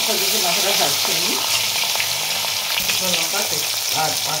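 Hilsa fish head sizzles steadily in hot oil, a dense, continuous frying hiss with small crackles and pops throughout, close and fairly loud.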